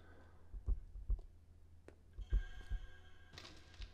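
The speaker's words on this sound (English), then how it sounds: "Oh, the little heartbeat effect." Anime heartbeat sound effect: soft, low thumps in uneven pairs, faint and quiet, with a few light clicks and a brief brighter swell near the end, no talk.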